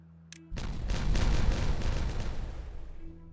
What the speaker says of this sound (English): we'll do a little explosion to say goodbye